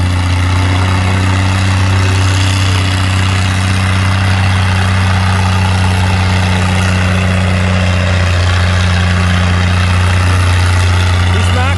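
A Super 88 diesel tractor drones loud and steady with a deep, constant engine note while pulling a sled at a tractor pull, with no belly or front weights, and voices talk beneath it.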